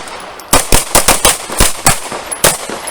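Pistol shots fired during a self-defense malfunction clearing drill, about ten sharp reports in an uneven burst, some in quick pairs, loud and close with no voices.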